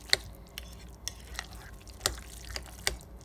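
Spoon stirring creamy egg salad in a bowl, giving several soft, wet, sticky scrapes and clicks at an uneven pace, close and fairly quiet with no talking.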